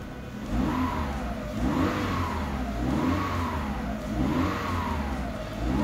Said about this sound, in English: Now it's time to start the engine. If everything is okay, it should idle nicely and work smoothly.